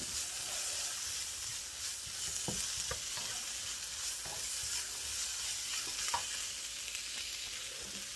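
Onions and red sweet peppers fry in a wok with a steady broad sizzle, broken by a few sharp stirring scrapes and clacks from a utensil, with no voices present.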